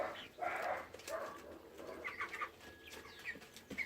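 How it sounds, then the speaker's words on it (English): Young chickens kept in a greenhouse make soft, low murmuring clucks and coos, fairly quiet and scattered throughout, with no talk over them. "Little chooks"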